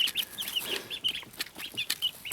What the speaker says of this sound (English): That's a happy chick sound. That chirp, chirp, chirp, chirp, chirp.